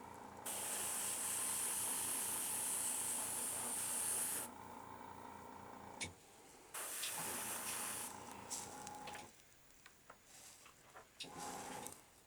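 An airbrush mists straw-coloured paint over a Predator P2 head, giving a loud continuous hiss for several seconds, then a pause and further shorter bursts of spray among small clicks and handling sounds.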